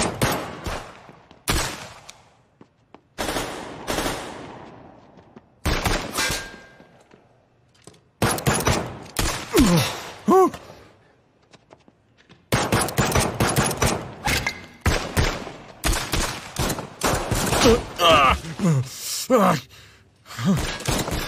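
Machine gun gunfire in a Persian-dubbed 2024 action film, with repeated loud bursts of rapid shots broken by short pauses and growing denser toward the end, mixed with gasps and shouting voices.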